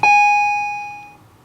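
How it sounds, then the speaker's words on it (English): A single bell strike, sharp and close, with a clear tonal ring that fades slowly over a little more than a second in a quiet room. "there's a bell"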